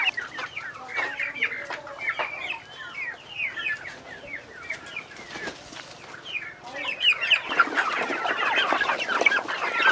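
A flock of chickens clucking nearby, with busy overlapping clucks and squawks and occasional wing flaps, growing louder and denser toward the end.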